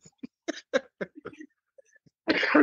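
A series of short, sharp bursts, several quick coughs in a row, then a longer rough noisy burst at the end; no talking.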